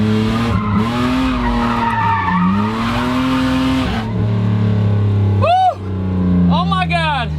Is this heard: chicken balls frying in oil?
no